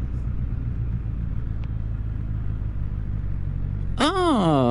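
A Honda CB650R motorcycle cruises on the Autobahn with a steady, loud engine and wind roar. Near the end the engine note climbs sharply as the bike revs up.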